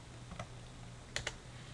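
A few quiet computer keyboard keystrokes enter a value while drafting a drawing, isolated soft clicks over a steady low hum, with two quick taps near the end.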